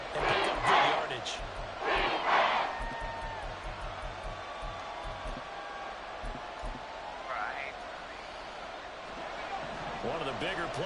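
A college football stadium crowd roars and cheers in swelling bursts, with short peaks of noise early on that then settle into a steady background din under a commentator's voice.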